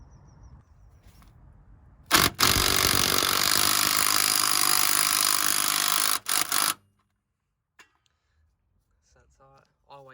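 Air impact gun tightening the nut on a Ford Fiesta front anti-roll bar link, one loud sustained rattling burst of about four seconds, close up, then a brief second burst and quiet workshop sounds.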